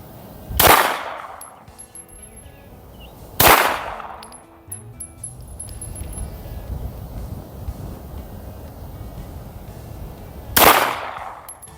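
Three sharp, loud handgun shots ring out at a shooting range, spaced several seconds apart, each with a brief echoing tail over light wind noise.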